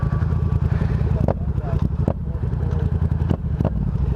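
Yamaha FZ-07 motorcycle with a Yoshimura exhaust idling with a few quick throttle blips, loud and close, a rumbling burble that surges briefly several times while someone talks over it.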